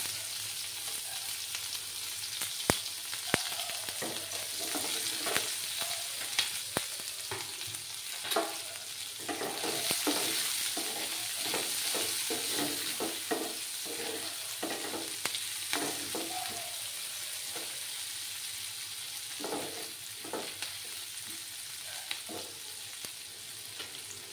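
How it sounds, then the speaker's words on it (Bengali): Chopped onions fry in oil with black cumin, a steady close sizzle broken by repeated scrapes and stirs of a spatula against the pan, with no talking throughout. "পেঁয়াজগুলোকে আমি একটু লাল করে ভাজবো একটু সময় নিয়ে।"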